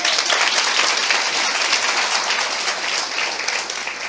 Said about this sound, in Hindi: आई गौरंग के लिए ताली बजाएंगे।